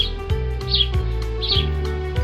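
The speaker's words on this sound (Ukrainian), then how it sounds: "Пташечка маленька, голос подає." A small sparrow chirping close by, sharp repeated tweets in quick bursts over a steady background hum.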